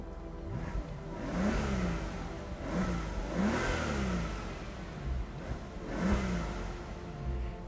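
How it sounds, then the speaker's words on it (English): A Maybach S 650 V12 engine, heard with the car's windows down, rises and falls in a series of revving surges. Road and wind rush fill the background, and no one talks. "the engine actually doesn't sound bad if we run on the windows real quick"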